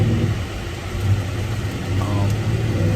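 A truck engine idles steadily with a low, rumbling drone, close and continuous for a few seconds.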